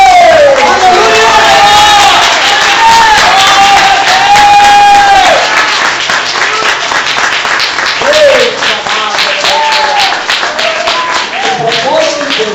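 A church congregation claps along in rhythm during a worship service, with loud shouts and voices rising over the steady clapping throughout.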